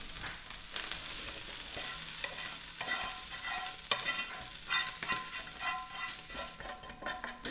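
Grilled bacon lardons are tipped into a pan and stirred, making a brisk sizzle laced with quick scraping and clinking strokes of a utensil, close and steady, without speech.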